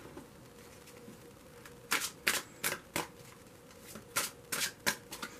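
Tarot cards are shuffled in a quick series of crisp riffling bursts, a few in one group and then a few more after a short pause, close and alone over faint background hiss.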